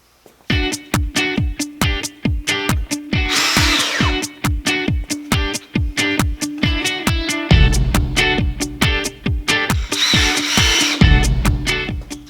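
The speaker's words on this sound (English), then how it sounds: "and then we're gonna drill our holes." Loud power drill boring holes to mount a floating shelf, running in repeated short bursts, whirring up and cutting off rhythmically, with a harsher grinding tone during two longer stretches.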